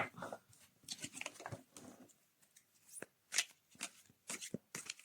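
Tarot cards being shuffled by hand, a run of quick, soft riffling and slapping bursts in an uneven rhythm, close and quiet with no talking.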